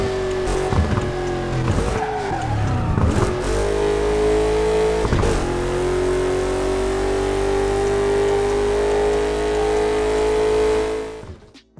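Vehicle in the Burnout Paradise video game making a signalling sound effect: a steady sustained tone over loud engine drone, with tyre squeals and skids early on, ending abruptly.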